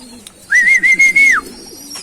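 Racing pigeons coo softly close by while a single sustained whistle rings out over them for about a second, at a derby race.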